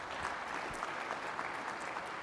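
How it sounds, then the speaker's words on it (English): A building trades union conference audience applauding NDP leader Jagmeet Singh, with dense, steady clapping from a large crowd that lasts the whole moment. "So a real round of applause for Jagmeet."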